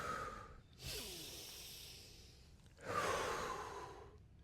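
Two long, deep breaths during a gentle back-rocking exercise for sciatic pain, each a close, airy rush with a soft hiss, separated by a quiet pause, no talking.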